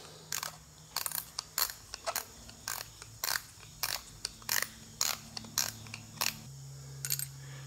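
The star wheel on a Bosch VE diesel injection pump is turned by hand, giving a regular series of close, sharp metallic clicks about every half second over a low mechanical hum.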